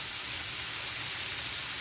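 Carrots and celery frying in a pan for a turkey pasta dish give off a steady, close sizzle like a broad even hiss that holds without a break.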